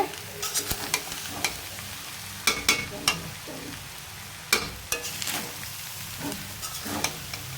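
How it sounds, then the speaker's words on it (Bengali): Chinese-style fried rice with egg being stirred and tossed in a hot oiled pan, with a steady sizzle under scattered clanks and scrapes of the spatula against the pan, close up and without talking. "এটা চাইনিজের ভাত রান্না হইতেছে।"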